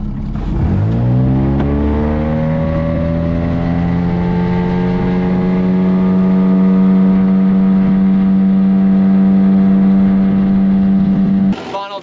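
A small QuickBoat toy boat's electric motor spins up from rest into a loud, steady high-pitched whine that holds for about ten seconds before cutting off, close by with no speech.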